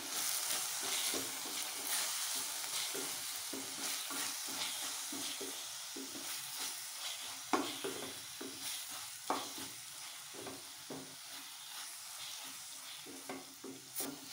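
Spice powders, turmeric and salt, are sautéed in a pan for soya chunk gravy, with quiet sizzling under repeated scraping stirs of a spoon, close and fairly faint.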